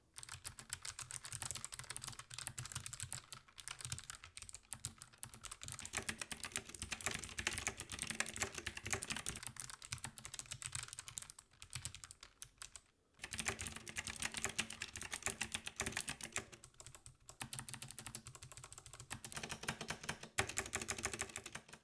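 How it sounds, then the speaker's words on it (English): Fast, continuous typing on Logitech G915 clicky switches and on GX Blue clicky switches from a G Pro X keyboard produces dense crisp clacking, close and steady, with one brief pause midway. "Here's how they sound compared to their similar brothers, the GX Blue clicky switches on the G Pro X model."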